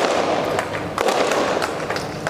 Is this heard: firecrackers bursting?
yes